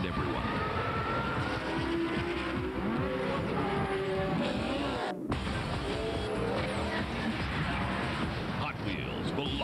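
Racing cars from the Hot Wheels Velocity X video game on PlayStation 2, GameCube, PC and Game Boy Advance roar steadily throughout, with engine whine and tire noise, a brief cut midway, and a voice talking over the action.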